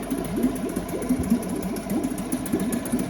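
A Seawalker outboard boat motor rated 2.5 to 5 horsepower runs in gear with a steady, close putter and a fast rhythmic knock, alone and without speech.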